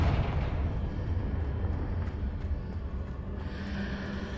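A Confringo fire spell explodes in Hogwarts Legacy: a deep, rumbling blast that rolls on and slowly fades, with a brighter crackle near the end.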